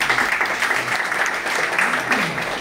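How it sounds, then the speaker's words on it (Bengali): An audience at a Vestige marketing plan meeting applauds a standing man, a loud, dense burst of many hands clapping together that holds steady throughout, with some talk mixed in. "ওনার জন্য জোরালো হাত তালি হয়"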